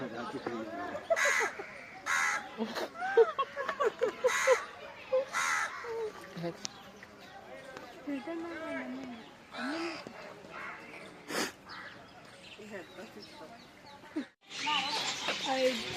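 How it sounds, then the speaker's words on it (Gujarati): Birds in a park aviary give harsh, raspy squawks and calls, some loud and close, mixed with people talking throughout. "પક્ષી ગૃહમાં આવી ગયા છીએ એ લવ બર્ડ"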